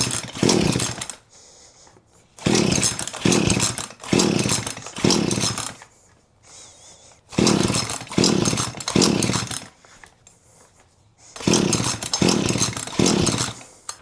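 An old, long-idle chainsaw with fuel squirted into the carburetor and cylinder fires in loud repeated bursts, revving briefly several times and dying between attempts, with quiet gaps in between.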